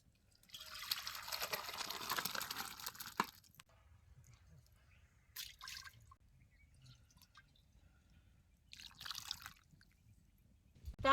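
Water and chicken are poured into a pot over a wood-fired stove for a spicy chicken rassa, making a soft splashing pour of about two seconds. Quiet drips and faint clinks follow.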